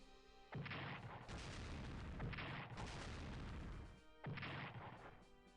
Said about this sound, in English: And Palermo is being bombed.